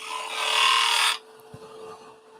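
Woodturning gouge cutting a small wooden snowman spinning on a lathe, a steady close scraping hiss for about a second that stops abruptly, leaving a quiet hum with a faint knock.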